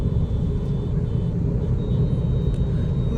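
Steady low road noise and tyre rumble inside a 2025 VW Virtus sedan fitted with 17-inch alloy wheels, a continuous dense drone heard from the cabin with no speech.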